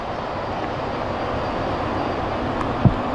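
A CSX freight train rumbles past steadily, a broad continuous roar with a brief louder clank near the end.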